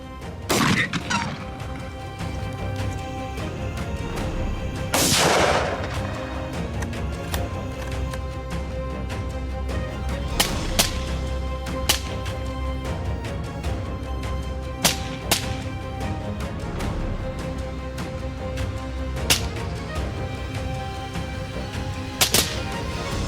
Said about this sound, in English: Gunshots echo throughout the night and intensify.